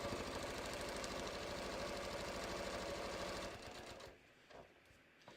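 A sewing machine stitching a bucket hat with an open toe foot runs in a steady, fast, close mechanical whir, then slows and stops near the end, leaving faint handling noise.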